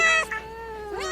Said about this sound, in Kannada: ಕ್ಯಾಟ್